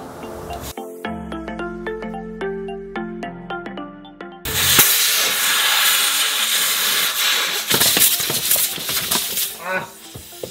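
Air rushes out of an Airlift Performance air bag through its Schrader valve once the valve core is pulled, a loud continuous hiss that starts abruptly after a few plucked musical notes and runs on steadily, with sputtering bursts near the end.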